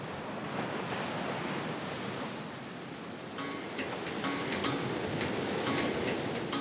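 Ocean waves breaking on a rocky shore, a steady loud roar of surf with sharper splashes and crashes building in the later part, no voices.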